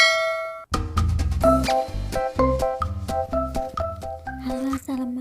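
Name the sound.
notification bell sound effect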